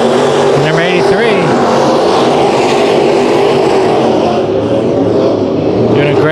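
Race cars at Bakersfield Speedway during heat races, loud engines roaring and droning steadily as cars run side by side, with a commentator talking over the noise.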